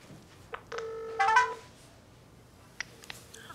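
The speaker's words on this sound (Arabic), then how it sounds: "صحيت على رنة الموبايل." A mobile phone rings indoors in short electronic chime bursts with a brief melodic tone in the middle, fairly faint against a quiet room.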